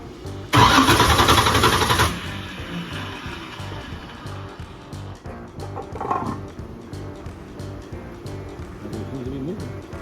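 A race car fires up on the starter, a loud burst of cranking and catching that settles after about two seconds into a rough, lumpy idle, with people talking over it.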